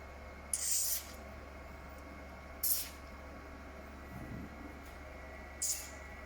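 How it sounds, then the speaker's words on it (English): Three short bursts of aerosol lubricant sprayed onto the x-axis guide rail of a Rainbow CO2 laser machine, each a crisp hiss of about half a second, close by over a low steady machine hum in a quiet workshop. "So first we can spray the lubrication on the guide rail of x-axis."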